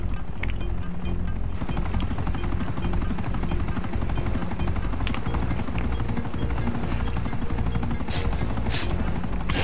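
Loud, continuous whir and rhythmic rotor chop of a helicopter, heard up close for nearly ten seconds with a few sharp clicks near the end.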